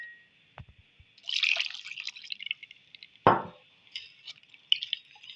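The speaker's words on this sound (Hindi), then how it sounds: "हम इसमें थोड़ा सा पानी शामिल करेंगे साथ," Water is added to a blended pomegranate, carrot and beetroot juice mixture, giving a quiet run of close splashes, drips and trickles in irregular bursts, with no talking.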